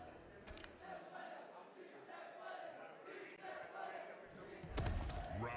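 A crowd at a Mortal Kombat 1 Final Kombat top-8 tournament cheers and roars as a dense, distant wash of voices, swelling near the end.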